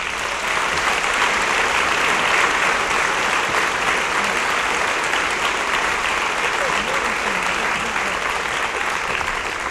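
An audience at a high school awards program applauds scholarship recipients, with steady, sustained clapping from a large crowd filling the hall for the whole stretch.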